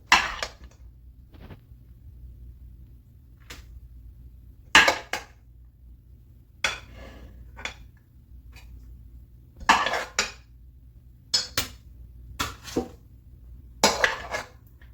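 Dishes and cutlery clink and clatter in scattered, sharp bursts while rice and raita are served onto plates, with quiet pauses between the knocks and no talking.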